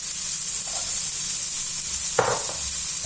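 Carrots sizzle in a pan for minestrone, a steady bright frying hiss filling the clip with a couple of brief stirring scrapes near the end, close and continuous.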